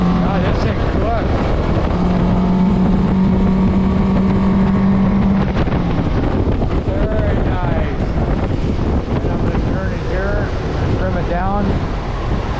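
A 2025 Hewescraft Pioneer 22 open boat with a tiller-steered outboard motor runs steadily at close range, a loud continuous engine drone mixed with water rush and wind buffeting, and a brief tonal whine early on.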